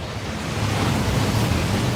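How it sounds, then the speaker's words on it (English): A waterfall in the Hogwarts Legacy video game rushes in a steady, loud, broadband roar that stays constant throughout, with no other sounds on top. "That waterfall washes away all enchantments."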